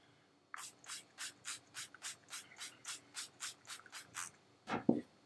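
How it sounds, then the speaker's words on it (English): Setting spray bottle for makeup rattles in a rapid rhythm of about a dozen even shakes, close and fairly loud, followed by a short hiss of spray at the end, with no talking. "I'm just gonna spray a little bit of this on my skin. I'm gonna shake it up."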